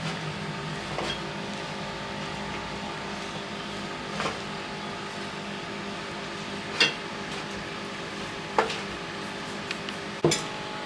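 Potato and egg kofta mixture kneaded by hand with gram flour, a steady soft mushy rustle with occasional sharper clicks and taps, close and fairly quiet, no talking.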